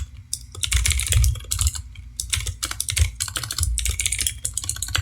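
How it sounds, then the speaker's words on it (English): Fast, steady typing on a computer keyboard, a dense run of close clicks and clacks with brief pauses, no voices. "I'm the best at typing"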